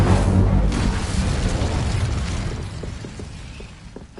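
Incendio fire spell cast in the Hogwarts Legacy video game, a loud whooshing burst with deep rumble that fades into a crackling, ticking tail.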